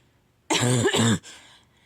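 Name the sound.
cough and throat clearing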